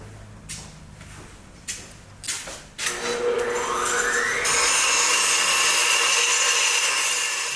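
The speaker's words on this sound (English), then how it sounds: "So I'm just going to grind a little bit off the end, just so it's not sticking up too high." A few short rubbing, scraping strokes on a metal fitting give way to a power grinder spinning up and grinding its end steadily, loud and close, with no voices.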